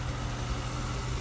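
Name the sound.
car engine idling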